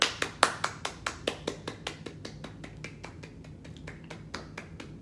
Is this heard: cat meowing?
no